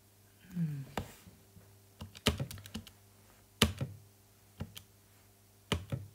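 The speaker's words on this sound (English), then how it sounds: "on my calculator, that's your normal keys, times 10 and then 7" Calculator keys pressed one at a time during a maths exam working, about eight crisp separate clicks with uneven gaps between them, close and fairly loud, over a low steady hum with no talking.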